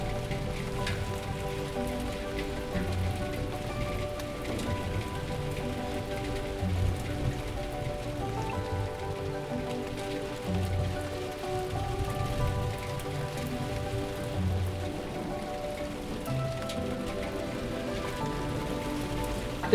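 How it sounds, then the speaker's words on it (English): Heavy rain pours down steadily in a city, a dense hiss of drops drumming on surfaces with no break, close and continuous. "It is absolutely pouring and I got caught in the rain so bad"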